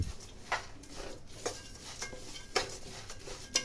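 Dry fruits and sesame seeds being dry-roasted in a pan, with light rhythmic clinks and scrapes of a spoon stirring against the metal at close range.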